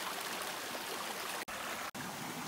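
Clear river water rushes and gurgles continuously along the Ilog ng Bicol in Barcelona, Sorsogon, a loud, steady broadband flow with no voices over it.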